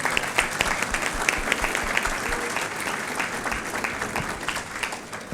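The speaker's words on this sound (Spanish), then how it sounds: "Un aplauso para ustedes." An audience at a national accreditation and education quality congress claps steadily, with crisp, fairly close individual claps forming a lively, even ovation.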